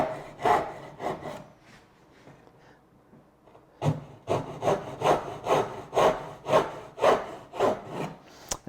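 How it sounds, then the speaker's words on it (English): A hand saw cuts through dovetails in wood, a few strokes, a brief pause, then a run of regular, close push-and-pull rasping strokes. "Now that they're all laid out, I can go ahead and start sawing."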